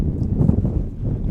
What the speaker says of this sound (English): the wind is extremely strong today, this crosswind